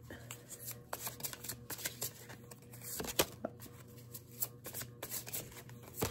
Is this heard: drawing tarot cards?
yes